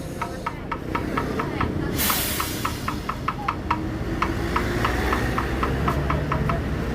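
New TAM intercity bus with an Avante H8 body on the Pekanbaru–Sukabumi route, its engine idling with a steady low rumble and a hiss, plus a rapid series of regular ticking clicks, with no voices.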